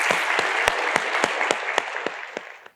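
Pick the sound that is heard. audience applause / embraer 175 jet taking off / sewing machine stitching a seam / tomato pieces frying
audience applause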